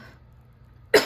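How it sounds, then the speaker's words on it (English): A single sharp cough from a woman recovering from a cold bursts out near the end after a near-silent pause, close and fairly loud. "I keep coughing"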